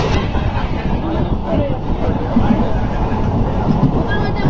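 An inaugural train runs on the new Hansi to Rohtak rail line, heard from on board as a steady rumbling roll with faint rail clatter, while people chatter over it.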